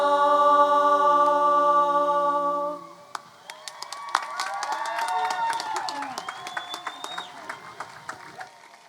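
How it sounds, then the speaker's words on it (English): A high school choir's held sung chord ends, then a graduation ceremony crowd breaks into steady clapping and scattered cheers that carry on to the end. "One more round of applause for our Vista del Lago choir"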